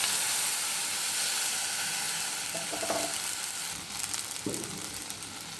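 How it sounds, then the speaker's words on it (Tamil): Two glasses of water go into a hot pan of fried onions for corn Maggi noodles, setting off a hissing sizzle with splashy bursts and crackling steam that fade and flare, with no talk. "நான் இந்த கிளாஸ் அளவுக்கு 2 கிளாஸ் தண்ணி ஊற்றிக்கிறேன்"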